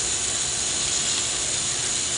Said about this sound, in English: the motor here is powering a gearbox